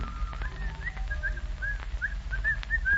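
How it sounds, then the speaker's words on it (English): A man whistles a bright, lilting tune in short rising and falling phrases over a low background rumble, in an old-time radio drama. "comes the happily demented Mr. Van Dyke, whistling cheerfully"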